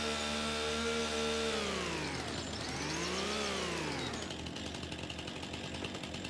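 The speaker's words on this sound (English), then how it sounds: "Don't use a chainsaw until I figure out why that's doing that." A chainsaw revs in the Farming Simulator 25 video game, its engine pitch rising, dipping and climbing again before settling into a rough, steady running drone, loud and continuous with no voices.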